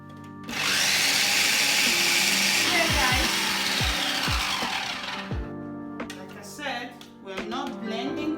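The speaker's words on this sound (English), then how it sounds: "We're not blending too smooth now, just to crush." Blender coarsely crushing onion with soaked ingredients for akara batter, a loud steady motor whine running several seconds before cutting off, with brief low knocks and faint voices afterward.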